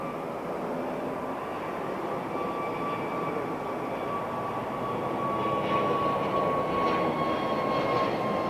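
A jet airliner takes off from runway 09R at London Heathrow, its steady engine roar loud and continuous throughout and swelling slightly toward the end, with no talking.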